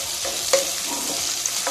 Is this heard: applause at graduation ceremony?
no